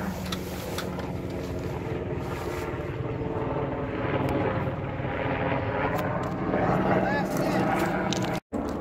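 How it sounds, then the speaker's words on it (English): A loud helicopter passes overhead at an outdoor work site where a forklift is stuck in mud, a continuous throbbing rotor roar that builds steadily, with people talking underneath. "It's a loud helicopter."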